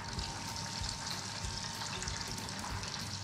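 Battered shrimp tempura, coated in flour, egg wash and butter, fries in hot oil with a loud, steady, close crackling sizzle that runs without a break and with no voices.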